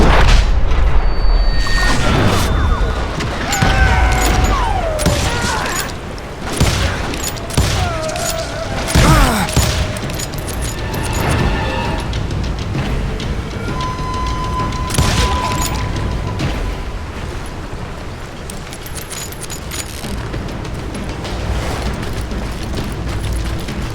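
Gunfire in Call of Juarez: Gunslinger, a Wild West shootout with repeated loud cracks and booming shots over a dense, clattering battle background, no speech.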